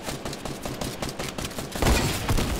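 Rapid gunfire from the video game Fortnite crackles in a dense burst of shots, loud and close, with a heavier impact near the end.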